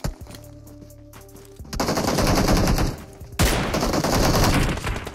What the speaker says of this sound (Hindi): मैं दोबारा से स्नाइपर शॉट लेने की ट्राई करता हूं